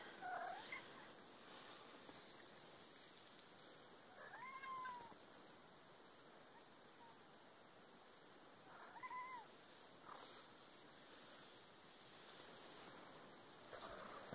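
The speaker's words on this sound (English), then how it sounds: "she always wanted to hear you meow" A cat gives a few soft, faint meows a few seconds apart in a quiet room with light rustling and background hiss.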